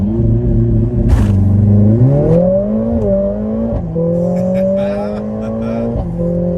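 A Mercedes-Benz A45 S hatchback launches hard from a standstill, its engine roaring loud and rising in pitch through several gear changes as it accelerates, heard from inside the car.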